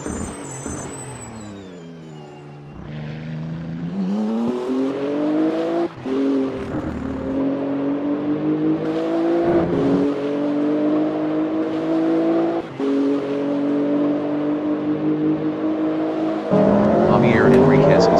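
A GT3 race car pulls out of the pits in a racing game, its engine droning steadily and climbing through gear changes with short dips between shifts, close and continuous for the full stretch while a commentator speaks over it.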